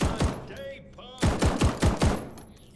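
Loud close bursts of video game gunfire, a couple of shots, a short pause, then a rapid run of five or six punchy blasts.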